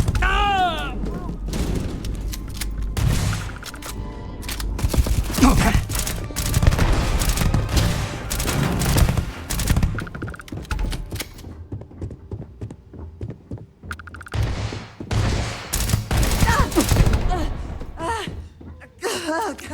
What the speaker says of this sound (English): Suppressive shots now!